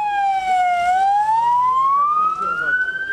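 An ambulance siren wails at the site of a coal mine explosion in Amasra, northern Turkey. It is loud and steady, with one continuous tone that dips and then slowly rises, over rumbling background noise.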